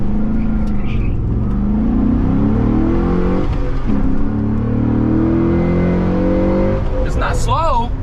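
A 1990s Mercedes car accelerates hard, its engine note climbing steadily in pitch and staying loud and close throughout, with people talking inside over the engine.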